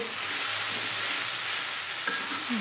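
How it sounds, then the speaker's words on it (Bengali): Noodles frying in a pan, an even, dense close sizzle holding steady for a few seconds with one faint tap of a utensil. "ভালো করে ভেজে নেব।"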